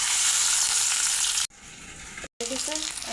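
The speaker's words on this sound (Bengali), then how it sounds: "তেল গরম হয়ে গেছে, এবার হলুদ লবণ মাখা মাছগুলো দিয়ে দেব।" Tengra fish rubbed with turmeric and salt fry in hot oil in a wok with a loud, steady sizzle that cuts out twice briefly, then crackles back up with bubbling spatter.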